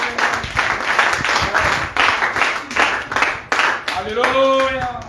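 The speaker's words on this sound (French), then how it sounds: "Let's clap to the Lord." A church congregation claps in rhythm during a Sunday service, steady unison beats ringing out over a sung or spoken voice and continuing under the talk.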